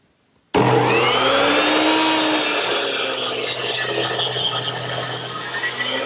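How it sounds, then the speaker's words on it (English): A miter saw set to 45 degrees, with a stop block, cuts a wooden rafter for a dovecote ridge. The motor starts abruptly and then whines loudly and steadily while the blade bites through the board, with no talk. "Now to make the cut at the ridge, I've turned my miter saw to 45 degrees and installed a stop block for the correct length."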